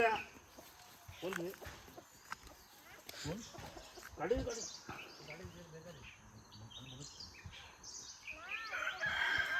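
Farmyard chickens clucking and a rooster crowing at a distance in a Konkan village, intermittent calls mixed with insect chirps, while someone talks over them.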